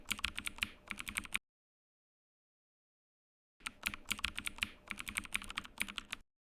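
Fast typing on a computer keyboard comes in two close bursts of crisp clicking keystrokes separated by a couple of seconds of silence, with no voices.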